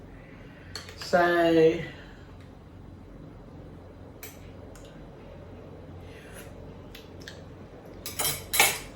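Metal utensil scraping and clinking against a pot while seafood boil soup is stirred, one loud burst of stirring early and another near the end, separated by quiet moments and brief clicks, with a short spoken word.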